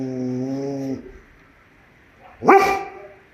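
A fierce, aggressive guard dog lets out a single sharp, loud bark, nearby, after a steady humming tone fades and a short silence.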